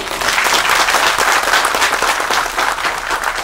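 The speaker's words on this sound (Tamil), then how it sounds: "அவருக்கு ஒரு மிக பெரிய கைத்தட்டல்" Loud, close audience applause for a film director at a Tamil movie event, a dense, even wash of many hands clapping that continues without a break.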